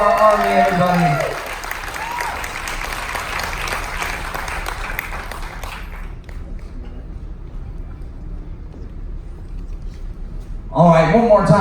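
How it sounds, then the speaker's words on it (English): Party crowd aboard a Carnival cruise ship applauds army veterans at a military appreciation gathering: steady dense clapping, with an announcer's voice at the start and again at the end. "Have a nice big round of applause for our Army, everybody."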